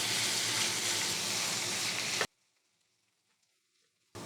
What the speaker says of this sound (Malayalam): ഇനി ഇത് നല്ലതായിട്ടൊന്ന് വഴറ്റി കൊടുക്കാം. ഈ സവാളയൊക്കെ നല്ലതായിട്ടൊന്ന് നിറം മാറണം, അതുവരെ ഒന്ന് ഇളക്കാം.